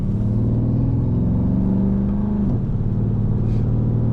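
A Chrysler 300 SRT with Hooker Blackheart exhaust accelerating on a ride along, a deep rumbling engine drone with a rising pitch that briefly dips and resumes, heard from inside the car.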